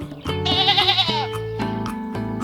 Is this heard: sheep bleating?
yes